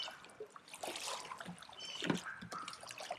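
A pool skimmer net sweeps and splashes across the surface of a dirty swimming pool, giving faint trickling and sloshing water that comes and goes in small irregular surges.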